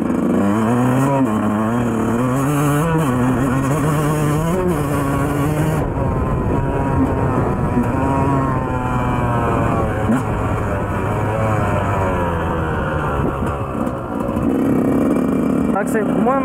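A 2004 Yamaha 125YZ two-stroke motocross bike buzzes and revs continuously during a test ride, rising and falling in pitch under wind noise, with a rider talking over it.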